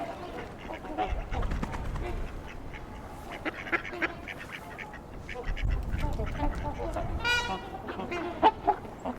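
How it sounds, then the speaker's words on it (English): A mixed flock of male and female mallard ducks quacks intermittently at close range outdoors, with scattered calls over background noise and a brief rapid series near the end. "A mix of male and female mallards"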